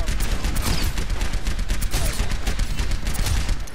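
Rapid gunfire in Overwatch aimed at Soldier 76, a dense, loud, continuous burst of shots filling the whole stretch with no pause.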